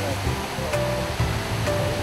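Eongtto Waterfall on Jeju pours with an unusually heavy flow after Typhoon Khanun, a steady broadband rushing roar that stays constant throughout, with faint tonal sounds layered over it.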